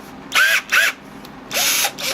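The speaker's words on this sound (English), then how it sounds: "put it in my drill." A power drill whirs in short bursts, two quick pulses followed by a longer run, the motor pitch rising and falling.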